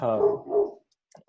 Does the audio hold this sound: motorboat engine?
no